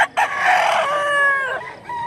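A bulik-colored gamefowl rooster crows once, loud and close, a long strained call that trails off after about a second and a half, with faint clucking around it.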